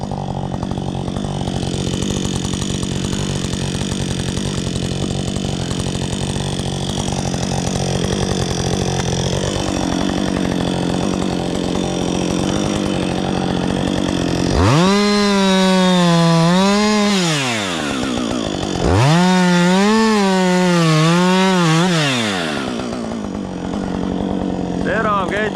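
A chainsaw cuts birch in home woodland work, idling roughly at first, then revving loudly into two sustained cuts with the pitch sagging under load and rising again between them.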